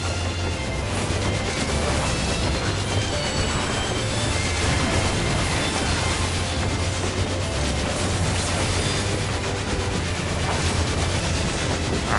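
A train in the video game Final Fantasy XIV Endwalker rumbles along steadily, a dense, continuous roar with a low hum underneath and no voices.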